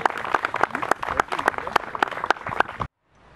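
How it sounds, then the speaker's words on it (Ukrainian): An audience at an open-air Chopin music festival applauds with dense, steady clapping for nearly three seconds, then it stops abruptly, leaving faint background. "Ще раз ваші оплески."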